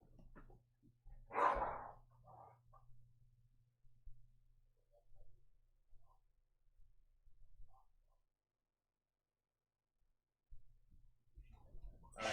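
Puppy barking indoors in a few short, faint yips and barks near the start and again at the end, with quiet pauses in between.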